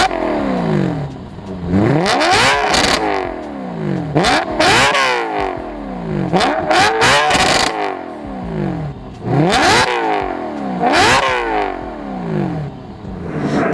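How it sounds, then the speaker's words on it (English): A modified BMW E92 M3 revs repeatedly, its exhaust and induction roaring loud and close as the engine pitch sweeps up and drops back in a series of sharp blips, with brief pauses between bursts. "the exhaust sound and the induction noise of this car, with the mods that I've done"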